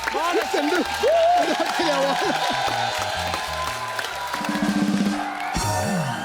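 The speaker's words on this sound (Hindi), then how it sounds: "सर इसके लिए खड़े होकर ताली बनती है" A studio audience on the Kapil Sharma Show, a comedy program, bursts into applause, cheers and whoops. The loud crowd noise runs under and between voices and lasts several seconds.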